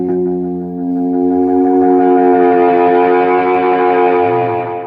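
Bo's Harmonic Trem/Delay pedal pushed into self-oscillation, its sustained, layered tone building after a brief dip and swelling to a loud, steady drone with a low rumble rising near the end.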